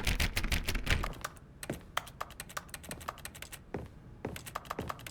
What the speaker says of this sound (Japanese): 私がキーボード叩く音なんだよな、この音っていうのは。